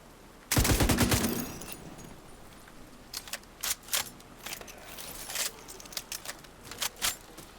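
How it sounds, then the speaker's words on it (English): A loud burst of automatic machine-gun fire in The Division 2, a video game, followed by scattered short bursts and single cracks from a submachine gun. "This is what happens when you get machine guns, submachines."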